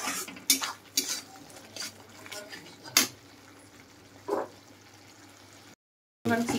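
Spoon stirring and mixing futko, a Ranchi Jharkhand street food, with spices: a few quiet scraping and clinking strokes against a pot at irregular intervals, faint and close, ending with a brief burst after a silent gap.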